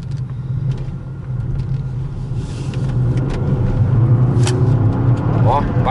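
A 2013 Lincoln MKS with a twin-turbo 3.5-litre 365 hp engine is driven on the road, a steady low engine rumble rising slightly as it accelerates, heard from inside the car with people talking over it.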